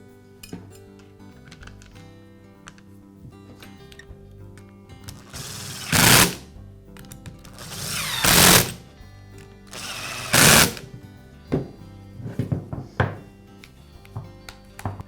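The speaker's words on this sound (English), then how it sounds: "And secure it with the screws." Screws are fastened into the cover plate of a Metabo angle grinder's brush holder, giving three loud whirring bursts of driving between quieter metallic clinks and taps of small parts.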